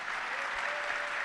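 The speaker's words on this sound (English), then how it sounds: "Let's clap for him." Brief, dense applause from an audience, a steady patter of many hands clapping at once.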